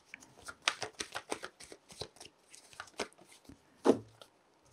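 Tarot cards are shuffled by hand, a close run of crisp riffling flutters and slaps with one louder knock near the end, with no talk.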